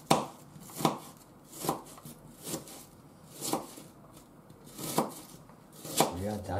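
Knife chopping through an onion on a board, six or seven spaced, fairly crisp cuts at a slow uneven rhythm, with a brief voice at the end.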